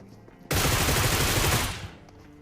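A Groza rifle fires a rapid, loud burst in the PUBG video game, sustained for about a second before it cuts off, with faint game ambience before and after.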